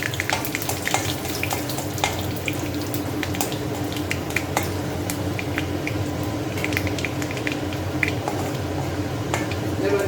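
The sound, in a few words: mustard seeds spluttering in hot oil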